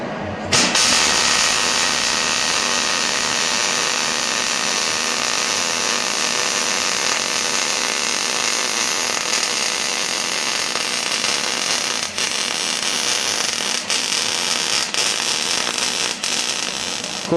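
A welding gun lays a long continuous weld pass, giving a loud, steady, close crackling buzz that runs almost unbroken after a sharp start, with a few small dips.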